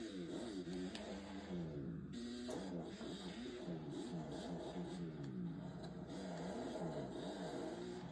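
A dirt bike engine in the MX vs ATV Legends racing game revs steadily and loudly, its pitch rising and falling with throttle changes over a continuous drone.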